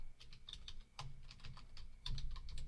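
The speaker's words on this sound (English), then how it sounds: "here we're just typing text" Fingers type on a computer keyboard while entering text in a code notebook editor, with rapid, uneven key clicks at close range and no talk.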